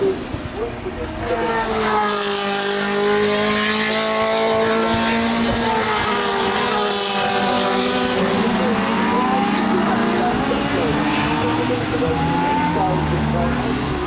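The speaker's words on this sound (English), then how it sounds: "the Brundle Harris Lola car goes up into second place" Historic Le Mans racing car engines, revving to 9,000 RPM, roar and whine continuously as cars pass on a circuit, loud and sustained, with pitch sweeping up and down through gear changes.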